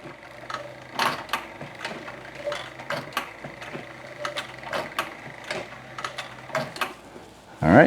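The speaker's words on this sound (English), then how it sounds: "So the machine is in reverse, and this is how we lock our stitch in." A sewing machine runs in reverse to backstitch and lock a seam in leather, a steady mechanical whir with repeated sharp clacks at an even pace, close up, ending in a loud burst.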